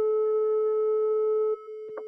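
A steady pure sine tone at 432 Hz from a tone generator holds loud and unwavering for about a second and a half, then drops in level, with a brief soft noise near the end.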